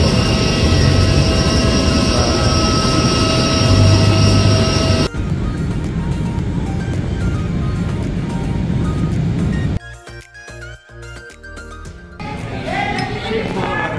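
Airplane engine drone at steady, loud level during a passenger flight, broken by abrupt shifts in tone and a few clinks, with no talk.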